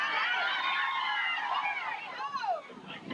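A large tournament crowd at a candlepin bowling match murmurs and chatters steadily in the background beneath continuous commentary voices, with no distinct cheering bursts.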